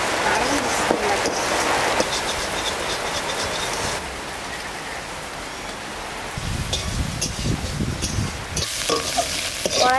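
A spice paste being fried and stirred in a wok, steady sizzling hiss with scraping stirs and louder bubbling bursts near the end, close and moderately loud.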